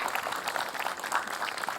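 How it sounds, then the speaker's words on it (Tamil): A television studio audience claps for a child on a Tamil kids' fun show, steady dense applause filling the whole moment at moderate loudness. "ஒரு கைத்தட்டல் கொடுங்களேங்க"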